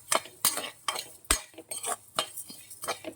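Coriander seeds roasting in a pan with a little oil, stirred with a metal spoon that gives repeated close scraping clinks and taps against the pan over a faint sizzle.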